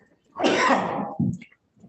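A single sneeze bursts out in a finance committee meeting room, a loud, close, breathy blast lasting about a second with a short sharp tail, followed by quiet.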